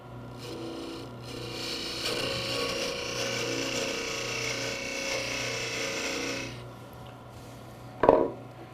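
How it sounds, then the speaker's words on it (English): A wood lathe parting tool cuts into a spinning wooden Christmas ornament, a steady close scraping rasp over the lathe's low hum that holds for several seconds, then stops and is followed by a brief knock. "I'll now use my parting tool to further reduce the diameter down here at the end."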